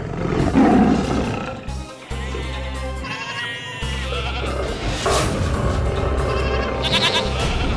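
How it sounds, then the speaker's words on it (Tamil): A tiger roars amid a dense, dramatic soundtrack from a Tamil historical comedy series, with loud layered growling and bleating-like cries running continuously and close, without any speech over them. "புலியோட சத்தம் மட்டும் தான் கேக்குது"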